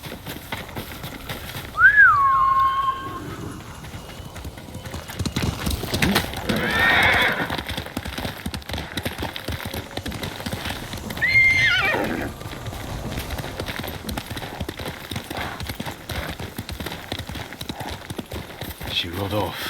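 In the Ghost of Tsushima video game, a horse's hooves clip-clop in a galloping rhythm, with a shrill whinny near the start and another neigh later, all under a soft bed of ambient game sound.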